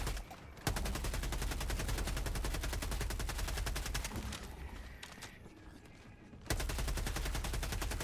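Sustained automatic gunfire in Helldivers 2, a dense rapid stream of shots filling most of the stretch, briefly dropping before resuming loud near the end; no talk.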